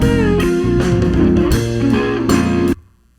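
A rough, unmixed multitrack recording of a band practice plays loud and dense, with drums, bass and guitars blurred together in a muddy wash before cutting off abruptly near the end.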